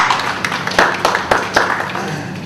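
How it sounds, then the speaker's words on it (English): Scattered applause from a seminar audience in a hall, several sharp claps in an irregular rhythm, moderately loud and fairly close, with faint background murmur but no clear speech. "So probably a round of applause for that first."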